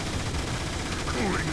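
Weapon fire in Transformers: War for Cybertron, a dense, noisy burst of rapid shots crackling under game clatter, sustained and fairly loud across the short moment.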